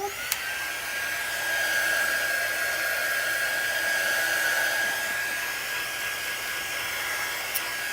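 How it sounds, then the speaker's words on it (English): A handheld quick-dry heat tool blowing on a two-sided craft frame gives a steady, loud whooshing hum with a faint whine that runs unbroken throughout, with a small click near the start and end. "I'm gonna dry this a little bit with my quick dry tool"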